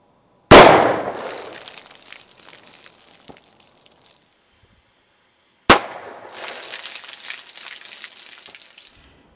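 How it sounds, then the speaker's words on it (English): Two sharp, loud close shots from a Charter Arms Pathfinder .22 Magnum snub-nose revolver firing Federal full metal jacket rounds outdoors, each crack trailing into a short echo and splashy debris. "I'm going to start the test off by shooting the revolver."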